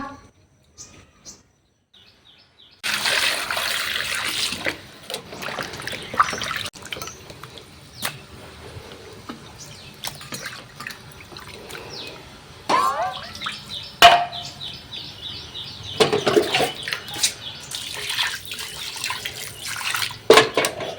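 Fish are washed by hand under a running tap, with water splashing and gurgling in uneven bursts after a quiet start, while birds call outdoors and a person talks at intervals.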